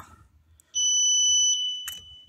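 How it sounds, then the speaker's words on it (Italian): Alarm on a Harley-Davidson Ultra Classic Electra Glide 1340 motorcycle sounds a loud, steady electronic tone for about a second, between quiet clicks and a sharp burst near the end. "disinserire l'allarme"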